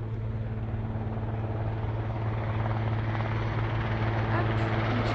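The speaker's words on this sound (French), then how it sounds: "On entend l'hélicoptère, le Puma arriver." A Puma helicopter arrives over a mountain chairlift construction site during pylon airlifting, its rotor throbbing loudly and continuously with steady low beating and a broad engine roar that swells slightly as it approaches.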